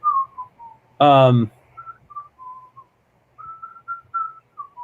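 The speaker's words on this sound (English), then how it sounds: "What are you whistling right there?" A person whistles the Mighty Mouse theme in short, breathy, wavering notes, close and clear, briefly interrupted by a loud buzzy vocal sound.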